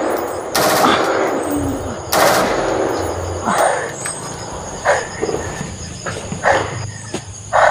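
Sniper gunfire rings out in sharp, loud cracks, two strong shots early followed by several fainter distant reports, over a steady hiss of outdoor ambience with insects.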